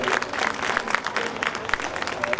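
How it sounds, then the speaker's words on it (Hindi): Audience applause at an annual school function, a steady dense patter of many hands clapping at moderate distance, filling the room without a break. "जोरदार तालियां बजा दी जाएंगी"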